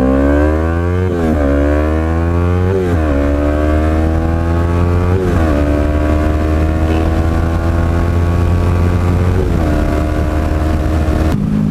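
Yamaha R3 motorcycle with a Bazzaz ZFi fuel controller and K&N air filter revs loudly through the gears on a test run, its engine pitch climbing repeatedly and dropping at each shift, close and continuous with no talk.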